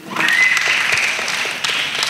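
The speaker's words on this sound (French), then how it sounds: "Quand on applaudit, on tape seulement les mains." A church congregation claps together in a sustained burst of applause, loud and steady, with some brighter shouts and cheers rising over the hands toward the end.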